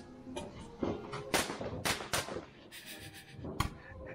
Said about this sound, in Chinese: 来看烟花。